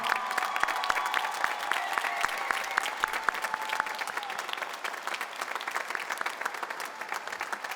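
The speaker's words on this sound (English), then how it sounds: "They're clapping from backstage, I can see them." Applause from an audience and choir members clapping backstage at an Armenian Genocide commemoration event, a steady dense patter of many hands with a few sharper nearby claps, sustained throughout.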